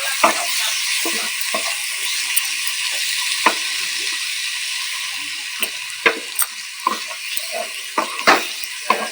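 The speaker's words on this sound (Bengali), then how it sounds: "লঙ্কার গুঁড়ো আর একটু জল দিয়ে মশলাটাকে খুব ভালো মতন কষিয়ে নিতে হবে" Spice masala with chili powder and a splash of water frying in a pan for soybean dopeyaja, a loud steady hiss with repeated sharp spatula scrapes and clinks, close up with no voices.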